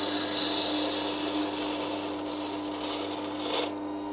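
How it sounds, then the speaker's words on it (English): Electric sharpening machine grinding a knife blade, a steady high-pitched metallic rasp running continuously for several seconds before cutting off abruptly near the end. "let's turn the machine on and sharpen a knife"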